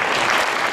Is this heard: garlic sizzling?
no